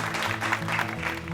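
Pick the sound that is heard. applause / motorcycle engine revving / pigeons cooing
applause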